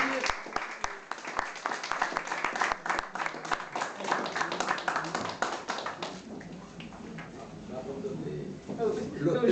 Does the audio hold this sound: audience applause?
yes